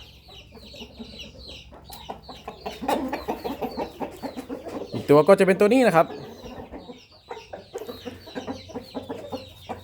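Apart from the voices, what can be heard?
young Burmese fighting rooster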